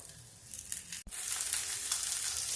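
Peeled boiled potatoes drop into a hot pan in a home kitchen, giving a brief thud followed by a loud, steady sizzle of frying that continues on its own without talk.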